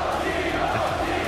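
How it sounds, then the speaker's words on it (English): An esports arena crowd at a League of Legends tournament match cheers in a brief, steady swell of massed voices. "Crowd giving him some love."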